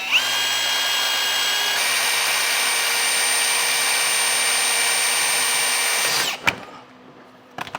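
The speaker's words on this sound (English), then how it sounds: "I'm going to drill a small hole here in the bottom and then fish it up into this cavity" A power drill bores a small hole through the bottom of a 2020 Jeep's plastic front fascia during a braking system install, a steady loud whine lasting about six seconds before it stops, followed by a few faint knocks.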